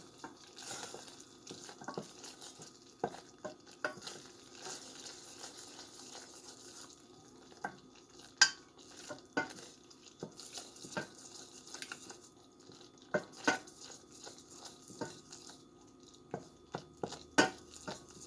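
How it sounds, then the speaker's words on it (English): Spoon stirring vegan alfredo sauce in a pot, with soft irregular scrapes, taps and gentle wet sloshing, close and quiet with no voice. "to just like stir shit in a pot"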